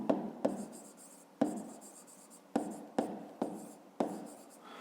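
Pen strokes writing numbers by hand during a fifth-grade maths exercise, a series of about seven short scratchy taps and strokes at irregular intervals, close and quiet, with no talking.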